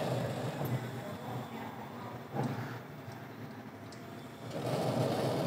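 Hestan gas grill burners lighting one after another with hot surface ignition, a steady soft rushing gas roar with a brief whoomp in the middle and a louder swell near the end.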